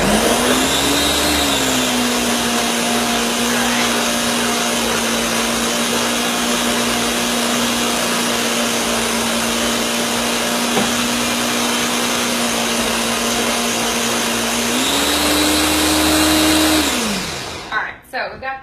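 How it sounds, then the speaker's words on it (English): A blender blitzes cooked sweet potatoes for a sweet potato pie topping, a loud continuous motor whine running steadily for most of the time, its pitch rising near the end before cutting off. "I'm going to go blitz them in the blender for a second"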